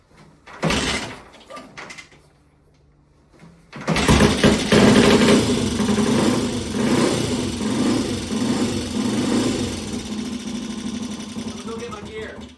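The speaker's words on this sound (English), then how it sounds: "So you got a 4-stroke motorcycle here." A four-stroke T20M motorcycle is kicked once, falls quiet, then fires and runs loudly at a steady, throbbing half-throttle, with voices nearby.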